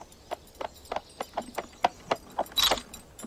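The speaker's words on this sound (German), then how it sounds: "bis Jonas auf den Hof reitet" A horse ridden into a yard, hooves clip-clopping in an even walking rhythm, about ten close, crisp hits and a brief jangle near the end.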